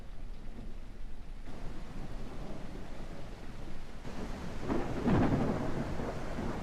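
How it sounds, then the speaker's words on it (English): Video game thunderstorm with steady rain hiss throughout and a deep rolling thunder rumble swelling up near the end, no voices. "Sounds stormy."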